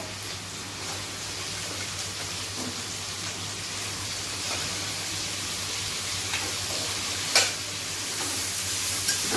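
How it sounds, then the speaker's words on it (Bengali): Vegetables with ginger, onion and turmeric fry steadily in a pan for a vegetarian paneer biryani, giving a constant loud sizzle with a few brief stirring clicks and no talk. "ভালো করে ভেজে নেব।"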